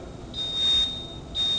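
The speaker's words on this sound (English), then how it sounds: "Detector beeps 4 times, as you see, and then the display will flash" A handheld gas detector sniffer beeps during calibration, giving two long, steady, high-pitched tones close by, separated by a short gap, over a faint hiss with no voices.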